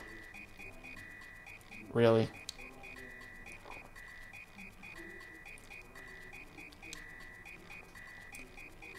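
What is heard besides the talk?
frog croaking in Super Mario RPG video game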